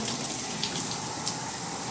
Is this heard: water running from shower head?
yes